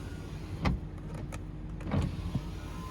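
Electric power windows on a 2003 BMW 540i M-Sport E39 sedan run in the rear cabin, giving two quiet, smooth motor whirs with soft thumps as each glass stops, no talking.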